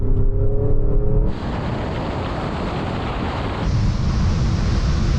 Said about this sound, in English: rolling race from 50 miles an hour, but this time the cars are in their sportiest setting and manual mode for the gearbox